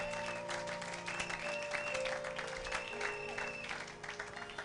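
A church congregation clapping together during worship, dense rhythmic handclaps over a faint held musical tone, sustained for several seconds before tapering slightly.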